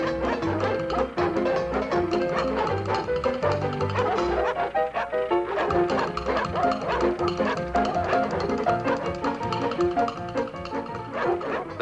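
Cartoon dogs bark and yip in quick bursts over lively, continuous background music in a Disney animated episode, with the barking mixed in loudly throughout.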